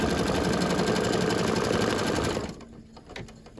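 An embroidery machine stitches a St. Patrick's Day coaster with white thread on vinyl, a loud, fast, steady mechanical chatter that stops abruptly partway through, leaving quiet room noise with a few faint clicks.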